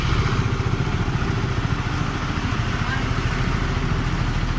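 A Honda CBR 150 motorcycle with an LED fault and engine stutter runs at idle, a loud, close, steady mechanical clatter with a fast even pulse and no pauses.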